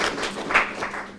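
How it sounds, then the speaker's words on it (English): An audience claps briefly for an interviewee, a short burst of scattered hand claps that rises to a sharper peak in the middle and then thins out. "Let's clap for this brother."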